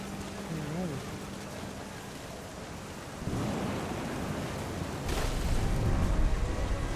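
Thunder rumbles through a storm in the video game What Remains of Edith Finch, with deep rolling booms building over steady rain and a heavy crash near the end, while game music sits faintly underneath.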